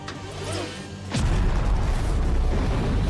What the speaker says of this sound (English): Heavy cannon, open fire!